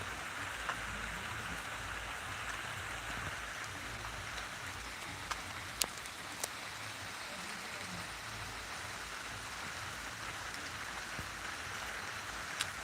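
Steady rain pours down outdoors as it grows heavier after summer heat, a constant dense hiss with a few sharp drop ticks, fairly faint and unbroken throughout.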